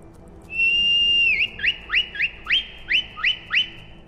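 A shrill whistle for a horse in the video game The Elder Scrolls V: Skyrim holds a long steady tone, then breaks into a rapid series of short rising chirps, bird-like and close.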